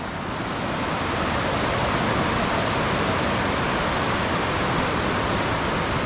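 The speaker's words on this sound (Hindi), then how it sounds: "और नीचे काली नदी है, वो बह रही है और प्रचंड रूप से वेग है।" The Kali river rushes fiercely below a mountain bridge, a loud, steady broadband roar of fast water that holds constant throughout with no pauses.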